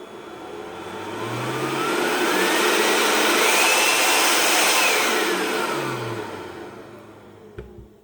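A Ryobi One+ 18V cordless workshop blower whirs up from low speed to a loud, steady rush of air, holds at full speed, then winds back down as the trigger is feathered, with a rising and falling whine and no talk.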